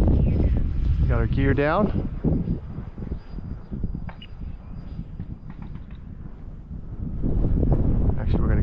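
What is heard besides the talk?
strong wind blowing on the microphone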